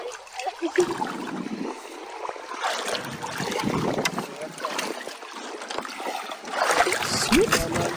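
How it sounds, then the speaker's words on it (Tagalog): Strong wind buffets the microphone in rough gusts over splashing water and boat noise, with voices talking intermittently. "Malakas yung hangin."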